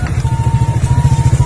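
A motorcycle climbing a steep mountain track, its engine chugging loud and close in a steady pulsing rhythm as it labours uphill.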